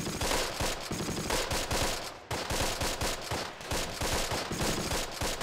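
Continuous automatic and rifle gunfire in the WWII video game Close Combat: The Longest Day, dense rapid bursts and overlapping shots filling the scene loudly with no pause.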